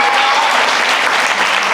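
Church congregation clapping during a Hindi sermon at a worship service, a dense, steady burst of applause close by with no talk over it.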